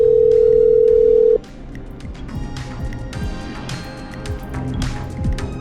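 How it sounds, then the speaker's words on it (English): A telephone in the video game Killer Frequency plays a steady dial tone for just over a second, then cuts off into faint clicks and soft game ambience. "I'm dialing. One moment."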